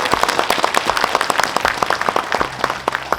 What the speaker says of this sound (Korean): 우리 장원필 변호사 힘내시라고 큰 박수 다시 한번 부탁드립니다